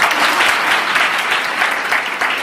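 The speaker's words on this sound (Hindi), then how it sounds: "इसके लिए ताली लगाए थे," A seminar audience at an entrepreneurship session in Kirari bursts into loud, dense applause that continues evenly for a couple of seconds, with no voices over it.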